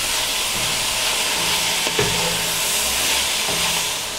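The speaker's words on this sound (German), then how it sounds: "Die Zwiebel werden dann auch langsam glasig und dann geben wir unseren Bacon dazu." Bacon and onions fry in a Dutch oven, a steady close sizzle and hiss running throughout with faint stirring clinks and a few brief scrapes.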